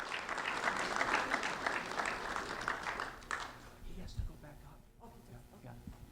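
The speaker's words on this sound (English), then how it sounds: "A round of applause for Britany Vazquez" An audience applauds an award recipient at a school recognition ceremony, a loud burst of clapping that fades after about three seconds, followed by quieter room noise and faint voices.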